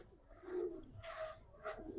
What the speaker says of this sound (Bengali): অনেকগুলো গেম খেলা কবুতর দেখেন